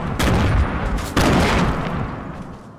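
Gunfire in Fortnite: two loud, close bursts of rapid shots, each cracking sharply and then fading into a rumbling tail, with nothing else in between.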